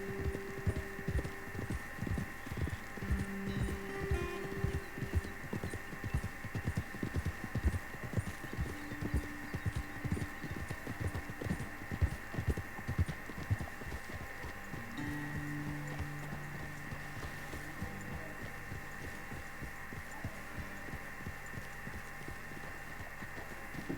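Horse hooves clip-clopping steadily in Red Dead Redemption 2, several horses riding along at a walk, close and rhythmic over a low ambient hum, the hoofbeats thinning out toward the end with no talk.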